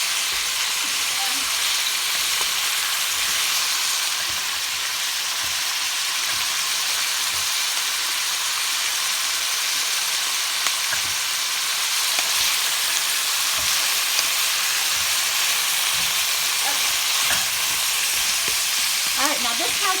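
Red and green peppers fry in a vegetable soup pot with a steady, loud, close sizzle and hiss that runs unbroken throughout, with faint stirring scrapes here and there.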